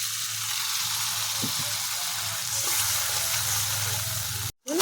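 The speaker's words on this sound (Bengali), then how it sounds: "এর মধ্যে এখন আমি হালকা একটু জল দিয়ে কষিয়ে নেব।" Spice paste for a fish curry frying in a pan with a splash of water added, a continuous close sizzle with a few stirring knocks, cut by a brief gap near the end.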